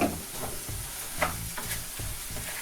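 Washed rice frying with caramelized onion in a pan, a continuous close sizzle with rhythmic scraping stirs every half second or so.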